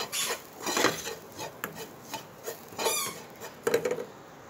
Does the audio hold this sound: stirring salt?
yes